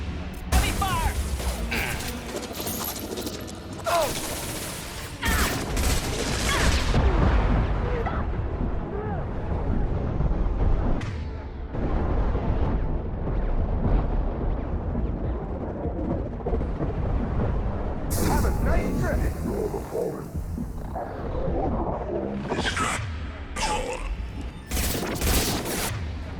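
Heavy gunfire and explosions rumble continuously through a Mass Effect 2 firefight, loud and dense, with sharp blasts scattered throughout and a bright hissing burst near the end, while voices speak over the battle.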